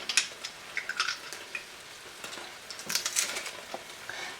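Garlic and aromatics sauté over medium to medium-high heat in a hot pan, giving a light, crackling sizzle with scattered pops and stirring scrapes at a steady, moderate level.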